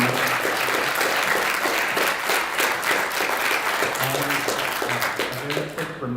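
An audience claps steadily for an accordionist at a concert, the dense applause holding strong before thinning and fading at the very end, with some talk mixed beneath the clapping.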